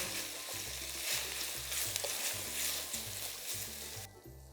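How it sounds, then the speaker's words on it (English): Sausages sizzle and fry in a pot for a one-pot pasta dish, a steady close crackle with occasional stirring scrapes and a low background hum, with no talking. "I'm going to cook these for about 5 minutes until they're nice and brown."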